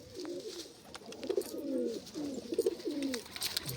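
Pigeons coo in a series of low, rolling calls repeated close by over faint outdoor background noise.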